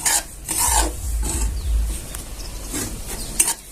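Semolina dry-roasting in a pan without oil or ghee, with a continuous raspy scraping of a spatula stirring the grains and a brief clink near the end, no talking.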